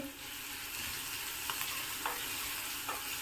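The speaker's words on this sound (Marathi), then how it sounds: "आपण जे क्रश करून घेतलं होतं लसूण आणि मिरची त्याचा क्रश घालणार आहे। आणि छान मिक्स करून घेणार आहे।" Crushed garlic and green chili stirred and fried in a pan for paneer bhurji: a steady close sizzle with a few sharp scraping clicks of the spoon against the pan, no talking.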